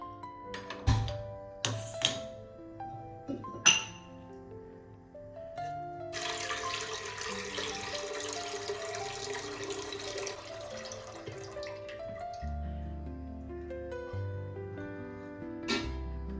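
Water is poured into a cooking pot for steaming modak, a steady rushing splash of several seconds after a few sharp metallic clanks of utensils, fairly quiet in a home kitchen.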